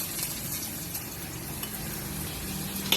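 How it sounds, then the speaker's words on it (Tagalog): Garlic sautéing in a hot pan for a Thai Pad Khra Pao stir-fry, a steady close sizzle with a faint stirring scrape, no voices. "Igisa muna tayo ng bawang"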